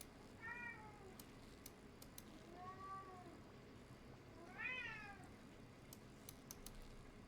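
A cat gives three distinct meows spaced a few seconds apart, the last one longer and rising, heard fairly close over a quiet room with faint clicks.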